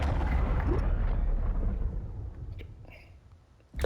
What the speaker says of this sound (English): that was a worldwide explosion